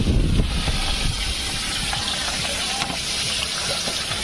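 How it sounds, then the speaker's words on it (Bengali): Bhola fish frying in a pan, with a steady loud hiss and sizzle of hot oil that runs unbroken throughout, heard alone without talk. "ভোলা মাছ ভাজা হচ্ছে।"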